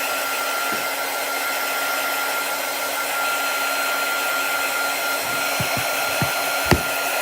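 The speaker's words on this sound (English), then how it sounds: "let's get our quick dry tool. Get this nice and dry." A quick dry heat tool blows steadily over chalk paste, an unbroken whirring hum of fan and motor at close range, with a few faint clicks and taps near the end.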